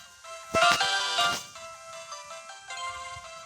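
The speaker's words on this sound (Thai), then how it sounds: "ขออนุญาตเบาเสียงเกมนะอะ" Bright electronic chime-like tones from a game, a melodic jingle with a louder burst early on, fairly quiet overall with no speech.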